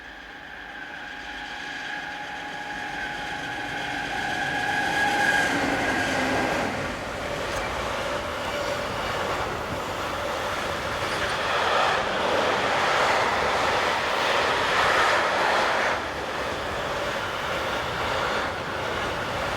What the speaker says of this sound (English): This is a delayed KTE 62828 intermodal service from Verona in Italy to Köln-Eiffeltor.